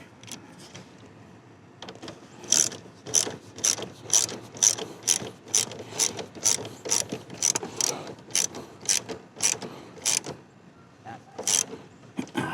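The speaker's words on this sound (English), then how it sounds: "This is the bolt that squeezes that thing, that tightens it on the battery." A ratchet clicks in quick repeated bursts as it tightens the battery terminal clamp bolt on a 2007 Range Rover L322, with a dozen or more sharp rhythmic strokes close up.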